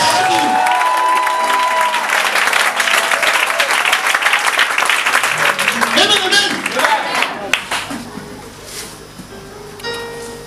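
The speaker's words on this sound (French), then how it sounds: "Acclame le Seigneur Jésus" Church congregation clapping and cheering loudly for several seconds, the applause thinning out toward the end while voices carry on over it.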